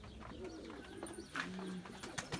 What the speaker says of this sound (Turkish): Burada da ismi dediğimiz güvercin var